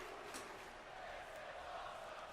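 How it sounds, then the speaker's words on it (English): A wrestling video-game arena crowd in a cruiserweight match keeps up a faint, steady chant-like roar, continuous and evenly loud throughout with no pauses. "This is awesome chant from the crowd."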